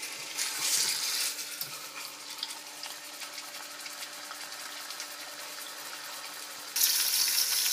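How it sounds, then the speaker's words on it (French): Pieces of lamb browning in a pan of hot oil for a tajine with prunes, giving a steady soft sizzle that stays even throughout and gets slightly brighter near the end, with no speech. "Je vais faire dorer mes morceaux d'agneau."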